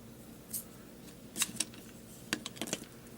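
Hobby snips cut small plastic pieces off a sci-fi base model with deck plating, giving a handful of quiet, sharp clicks in a couple of clustered bursts against a faint background hum.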